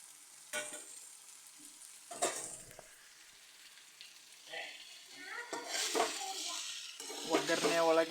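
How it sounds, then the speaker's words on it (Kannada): Mashed idli stirred into a hot tempering in a pan, intermittent scraping and spatula clatter over a soft sizzle that grows busier toward the end, heard up close. "ಒಗ್ಗರಣೆ ಒಳಗೆ ಇಡ್ಲಿಯನ್ನು ಹಾಕಿದ ನಂತರ ಚೆನ್ನಾಗಿ ಒಗ್ಗರಣೆ ಒಳಗೆ ಮಿಕ್ಸ್ ಮಾಡಬೇಕು."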